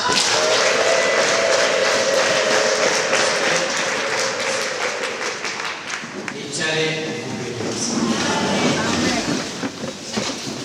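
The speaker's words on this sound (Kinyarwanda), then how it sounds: "Reka amashyi menshi." A church congregation at a Christmas service breaks into loud, sustained clapping that runs for about ten seconds, dense and continuous, with some voices rising in the latter part.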